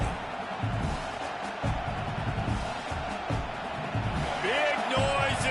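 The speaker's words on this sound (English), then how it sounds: "how nice is it to have the home crowd going absolutely bananas?" Home football crowd roaring loudly in a packed stadium during a big third-down play at the Big House, a dense sustained wall of cheering with a whistle rising near the end.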